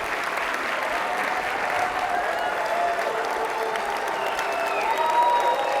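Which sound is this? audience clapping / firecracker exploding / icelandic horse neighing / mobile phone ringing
audience clapping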